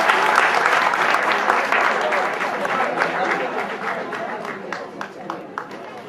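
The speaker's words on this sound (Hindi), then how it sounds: "जिनके लिए एक बार जोरदार ताली" Audience applause at an Independence Day function: a dense, loud wash of clapping from a crowd that gradually thins toward the end, with a few isolated claps lingering.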